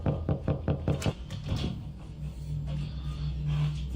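Several sharp knocks on a wall inside a video game sound out in a quick burst, close and distinct, then fade into a low steady hum.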